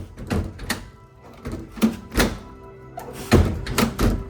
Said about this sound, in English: Now I can't open the dang door.